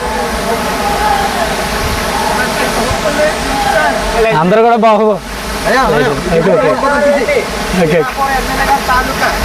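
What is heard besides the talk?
Sarugudu waterfall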